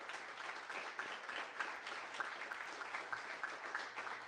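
A forum audience applauds five municipal candidates in Helena: dense, even clapping from a modest crowd, steady and fairly faint throughout.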